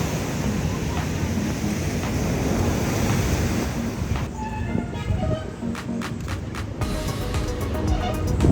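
Steady, loud surf roars continuously at Rockley Beach, Barbados, strong waves washing on shore with gusty wind buffeting the microphone throughout.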